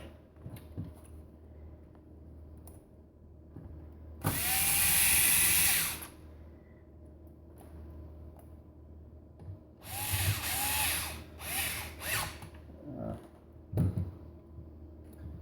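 Screws being driven back into a Ricoh 3235c copier with a power driver, heard as two loud whirring bursts, one steady and one broken into several short spurts, with quiet pauses between them.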